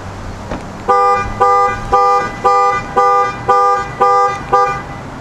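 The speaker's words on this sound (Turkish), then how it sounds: "Şimdi mesela panik butonu göstereyim size." A Dodge Charger SE with a 3.6 V6 sounds its panic alarm from the key fob: about eight loud, evenly spaced horn blasts pulse in a steady rhythm, close by, with no talking over them.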